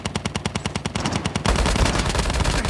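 Gunfire in a battle royale video game: a steady burst of rapid automatic shots, then a denser, louder overlapping barrage of fire from more than one weapon, close and dominant, with no voices.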